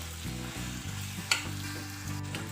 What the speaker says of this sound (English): Then you'll be adding in the 2 carrots. And just mix it through.